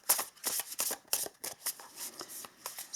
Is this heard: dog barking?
no